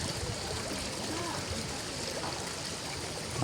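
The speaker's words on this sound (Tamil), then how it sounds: "தண்ணியும் ஓடிக்கொண்டே தான் இருக்குது பாருங்க." River water flows steadily beneath a bridge under construction, a continuous rushing trickle heard close up with a voice speaking over it.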